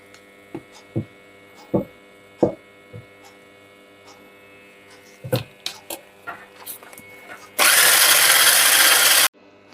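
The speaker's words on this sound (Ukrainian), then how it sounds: "Коли додали все вершкове масло, проходимось по краю миски і ще раз збиваємо." Electric mixer whipping butter soufflé cream in a bowl starts up loud and harsh for about two seconds near the end, after a few scrapes and clinks against the bowl over a low hum.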